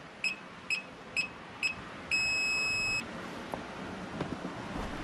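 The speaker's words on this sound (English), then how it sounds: "You get those 3 quick beeps and then the long beep." Four short, evenly spaced electronic beeps from an Msuper V3 electric scooter calibrating, followed by one long sustained beep, clear and close against a quiet background hum.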